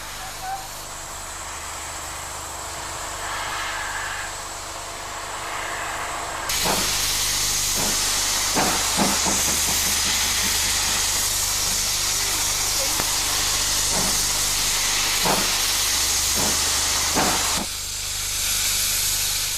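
A Great Western King class steam locomotive hisses steadily nearby, the hiss swelling louder midway with rhythmic chuffing beats, and no voices.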